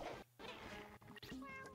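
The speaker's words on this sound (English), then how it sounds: "Dumb cat." A cat meows in a video game, a short, faint cry amid busy, clattering game effects with a brief crash partway through.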